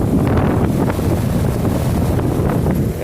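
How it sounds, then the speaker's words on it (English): A 2007 Carrier base model heat pump runs with a new Packland fan motor, giving a loud, steady low rumbling whoosh that sounds like heavy airflow, close and continuous. "now this Carrier base model heat pump just got a new fan motor"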